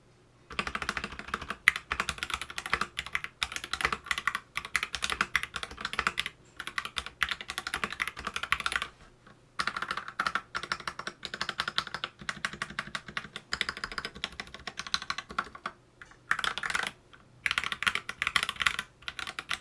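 Typing on an RK68 mechanical keyboard fills the clip, with close, crisp clacking keystrokes in quick bursts broken by short pauses, and no voice over it.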